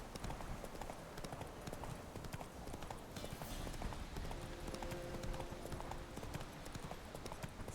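Horse hooves clip-clop at a steady walking pace in The Witcher 3, a continuous moderately loud rhythm of hoof strikes with faint game ambience and a brief tonal chime in the background.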